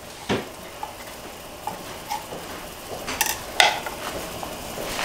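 Kitchen work while preparing shrimp and nopal patties in red mole: a few light, scattered knocks and clinks of utensils, close and fairly quiet, with brief sharper clatters near the end and no talking.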